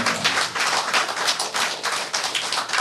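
A crowd at a Korean political gathering claps steadily and densely throughout, a loud sustained wash of applause with no voices over it.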